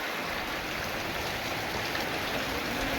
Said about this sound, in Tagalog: Umuulan pa nga dito no.